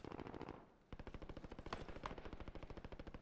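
Automatic gunfire in a team-based shooter video game, a long, rapid, steady stream of shots with a short gap partway through, fairly faint as if at a distance.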